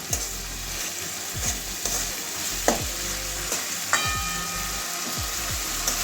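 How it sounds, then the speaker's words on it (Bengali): Jackfruit seeds are stir-fried in a hot pan for a cabbage curry, with a steady close sizzle broken by repeated scraping strokes of a spatula. "দু তিন মিনিট ভালো করে কষাবো"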